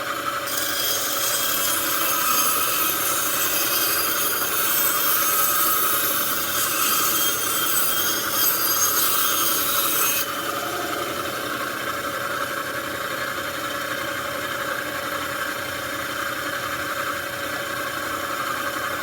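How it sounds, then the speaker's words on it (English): A bandsaw cutting a wavy pattern along the long side of a wooden piece, a steady rasping whine of blade through wood for about ten seconds, then the motor running on more quietly once the cut ends. "I'm going to run them across my bandsaw. I'm just going to make a wavy pattern."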